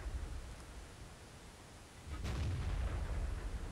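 A single heavy M60 tank cannon shot in a tank video game, a sudden thump about two seconds in that rises out of low rumbling background and leaves a sustained boomy roar afterward.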